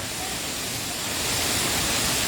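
The Efrata waterfall at Harian Boho on Samosir pours in a steady, dense broadband roar, close and constant with no voices.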